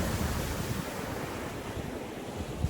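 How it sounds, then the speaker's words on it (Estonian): Steady wind blowing across a beach at Ventspils on the Latvian coast, gusting from the northeast, rushing loudly and continuously into the microphone alongside a low roar of surf, with no voices. "Praegu puhub tuul 6-7 meetrit sekundist kirdes."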